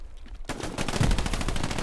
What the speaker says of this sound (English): That's a lot of pre-firing.